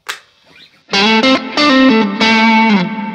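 Electric guitar on the neck pickup through a Hot Cake overdrive pedal, warm overdrive, a few sustained bright notes and slides after a brief pick scrape, played alone and fairly loud.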